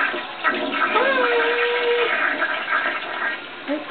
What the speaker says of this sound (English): Go flush it